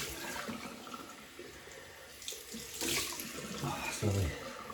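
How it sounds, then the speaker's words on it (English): A tap runs for a cold water rinse after a shave, a steady near hiss of flowing water with splashes and a brief louder gush, while someone talks softly over it. "Okay, cold water rinse."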